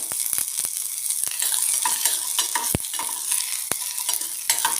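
Onions and green chillies sizzle in a hot pan for drumstick soup, with sharp scraping stirs of a spoon breaking in repeatedly over the steady frying hiss; no voices.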